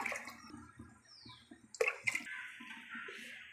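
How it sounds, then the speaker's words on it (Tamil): Water is added to a pressure cooker holding rice and split moong dal for ven pongal, giving a short splashing pour that starts suddenly and then settles into a steady gurgling flow, close by and with no talking. "இப்போ நம்ம தண்ணி ஆட் பண்ணிக்கலாம்"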